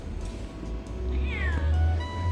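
A street cat in Turkey gives one clear, drawn-out meow at close range, rising and then falling, over a low background hum.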